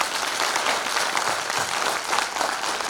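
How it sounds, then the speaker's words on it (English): A round of audience applause at a mentoring and coaching programme closing ceremony, steady dense clapping from many people, even and continuous at moderate volume without talk. "Another round of applause."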